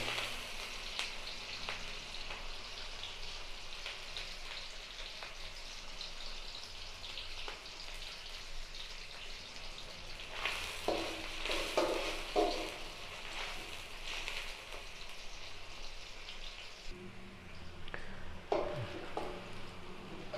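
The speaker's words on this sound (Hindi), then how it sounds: "प्याज को थोड़ा ब्राउन होने देंगे। हल्का सा हिलाते रहें साथ।" Onions browning in a pan for chicken karahi, with a steady close sizzle and crackle broken by bursts of stirring and scraping, no voices over it.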